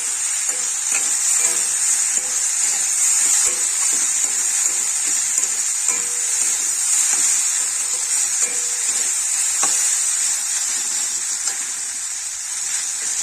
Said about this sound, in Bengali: আর একটু সময় শাকগুলো ভেজে নিলে ভাজা হয়ে যাবে।